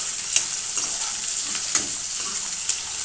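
Onions fry and sizzle in a pan for a tomato chutney, a steady hiss broken by three soft scraping stirs spaced about a second apart, close and moderately loud.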